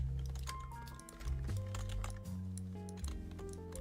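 Computer keyboard keys clack in quick irregular bursts, close and crisp, with steady low background music underneath.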